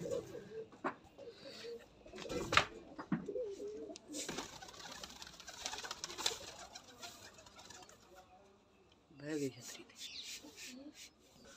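Pigeons on a rooftop perch coo softly at low volume, with scattered rustling and rubbing sounds between calls and a louder burst of cooing near the end.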